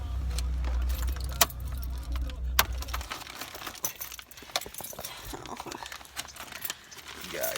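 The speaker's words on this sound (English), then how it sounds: "Wait, let me turn the car off." Car keys jangle repeatedly as a car's engine is switched off, the low idle rumble cutting out after a few seconds and leaving scattered metallic clinks and rustling, with faint voices nearby.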